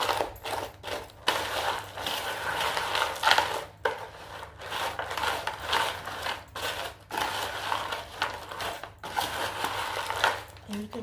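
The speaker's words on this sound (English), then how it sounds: "So I'm just gonna kind of mix this around" Small batch of Halloween trail mix being stirred and tossed in a container, a close crunchy rustling and clattering of dry pieces that comes in uneven bursts with brief pauses.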